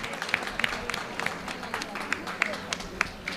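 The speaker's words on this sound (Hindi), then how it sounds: "एक बार डॉक्टर साहब के लिए सुंदर तालियां आचार्य मनीष जी के लिए।" An audience applauds a doctor, Acharya Manish, at a spiritual gathering in Vrindavan, with scattered, uneven claps at moderate level. Talk carries on underneath the clapping.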